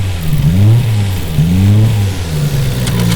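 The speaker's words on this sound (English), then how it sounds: "Engine seems to run really good." Engine of a 1992 Nissan Skyline GT-R, running with only half its air filters fitted, revs up and settles several times in a row: close, loud, rising and falling sweeps over a steady idle with no talk.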